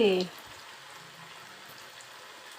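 Crispy chicken bread snacks fry gently in oil over a low flame, a soft, steady hiss and faint bubbling heard alone after a brief spoken word at the start.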